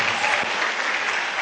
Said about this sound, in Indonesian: Kenapa tepuk tangan nih?